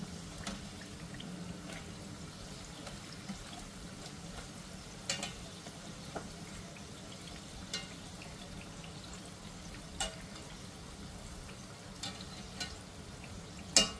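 Karanji pastries deep-frying in oil, packed closely together in the pan: a faint, steady low sizzle with sparse soft pops scattered through it and no voices.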